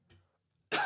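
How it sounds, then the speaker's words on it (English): A man's single sharp cough bursts out loud and close after a faint throat noise and a moment of silence, in a live sports talk show setting. "I gotta cough real quick"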